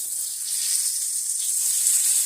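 Hamburger patty sizzles in a pan under a steady, bright frying hiss, close and fairly loud, with no talking.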